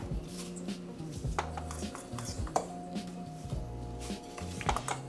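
Creole seasoning being mixed into a catfish batter in a bowl: a run of clinking and scraping utensil-on-bowl sounds, moderately loud and irregular, over a low tonal background hum.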